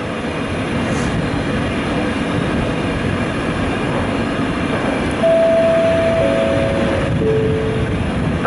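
Train rolling past on a Polish railway line, a broad steady rumble of wheels and cars close by, with a brief tonal whistle or horn-like whine near the end and no talk.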